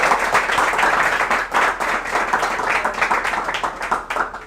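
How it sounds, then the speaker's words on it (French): Lively applause from a school audience at a student quiz competition, with many hands clapping loudly and close, individual claps pulsing through a continuous crowd roar. "On applaudit encore très fort"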